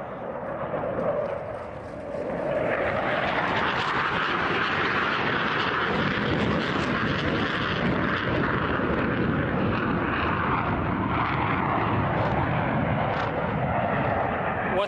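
A loud, sustained JF-17 fighter jet engine roar that swells after a couple of seconds and holds steady and close, with no voices.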